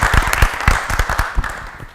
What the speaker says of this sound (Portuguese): Vamos aplaudir o nosso presidente,